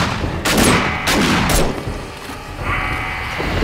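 Gunfire in the survival game 7 Days to Die: loud, close shots burst out in a quick cluster and leave a rough, rumbling tail, followed by a quieter stretch with only faint game noise.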